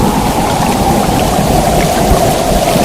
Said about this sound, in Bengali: সেদিন সন্ধ্যা থেকে শুরু হলো খুব ঝড় বৃষ্টি